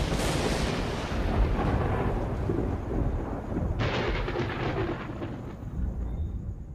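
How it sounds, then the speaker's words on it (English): Thunder from an electrical storm over Yosemite Valley near Half Dome, two long loud rolling rumbles, the second cracking in sharply midway, with faint rain hiss beneath and no voices. "an electrical storm."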